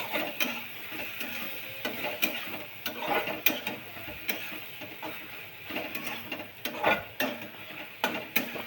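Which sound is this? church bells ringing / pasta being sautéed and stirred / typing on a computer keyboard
pasta being sautéed and stirred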